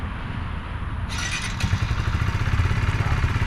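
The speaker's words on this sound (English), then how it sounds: "All right, go ahead and start your bike." A brand-new motorcycle's engine starting, with a click and then a rising, loud, close rumble that settles into a steady idle.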